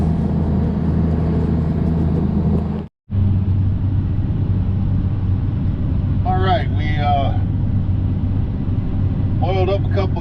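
A combine harvester running a Case 3406 corn head in second gear gives a steady, loud low engine rumble with a brief cutout. Someone speaks briefly over it.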